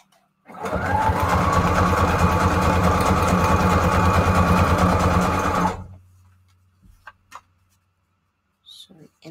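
A sewing machine hums through a continuous run of about five seconds stitching paper scrap strips together, close and steady, then stops, leaving faint handling noises.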